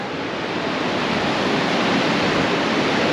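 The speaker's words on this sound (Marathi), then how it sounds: "ही जी आहे ही आहे स्पिती नदी ही जी तिकडून आली आहे ती स्पिती नदी आहे" Steady, loud rushing water of the Spiti River near Nako fills the whole clip, a continuous broadband roar like a fast river flowing close by, with no voices.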